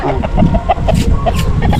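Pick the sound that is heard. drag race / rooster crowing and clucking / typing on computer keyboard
rooster crowing and clucking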